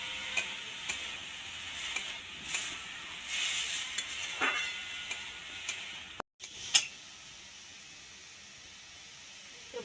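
Chopped green chillies are stirred in a pan with a beetroot and carrot mixture, making quiet intermittent scraping taps and light clicks against a faint background hiss, with a short break partway through.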